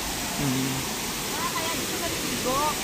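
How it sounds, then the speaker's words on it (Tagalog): Tamaraw Falls in Puerto Galera, a steady broadband rush of falling water heard from the base of the falls, with brief voices over the constant roar. "Dito kami sa baba ng Tamaraw Falls."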